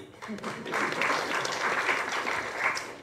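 Scattered clapping at a Tamil talk event, a light patter of hands rising and continuing at a moderate level, somewhat distant and a little uneven.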